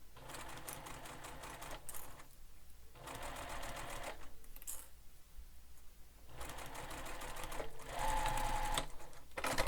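A sewing machine stitches binding onto the mesh pocket of a fabric backpack in quiet bursts of rapid mechanical clatter, separated by short pauses.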